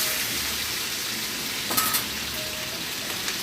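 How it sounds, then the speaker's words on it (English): Onions fry in bacon fat with a dense, steady crackling sizzle, with one brief clatter near the middle. "I'm going to take those lovely onions and going to add them into the bacon fat."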